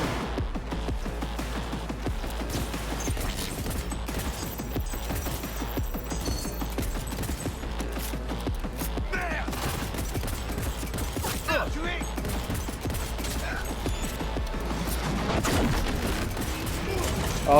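Rapid gunfire in Cyberpunk 2077 Phantom Liberty during an Arasaka heist, dense clattering bursts mixed with mechanical clicks and impacts, steady and busy throughout with brief louder spikes.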